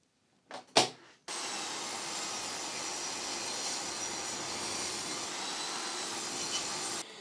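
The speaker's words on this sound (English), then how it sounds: "I'm just going to rip it down on my table saw" Table saw ripping a glued-up wood panel: a couple of brief clunks, then a steady, loud whining roar of the blade cutting that holds evenly for about six seconds before cutting off.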